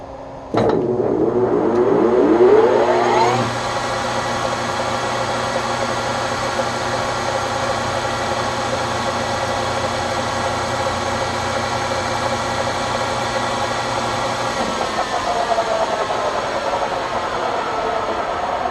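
A Webb Whacheon lathe starts up on a phase converter with a sharp click and a loud rising motor whine. It settles into a steady electrical hum that drops off near the end.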